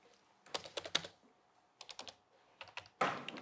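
Computer keyboard keys clatter in quick irregular bursts of clicks, fairly close, with short pauses between clusters and one heavier burst at the end.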